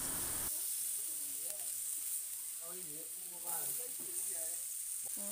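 Fatty pork slices sizzling on a Thai moo kratha hot-pot grill, a steady bright hiss running throughout beneath a woman's quiet speech.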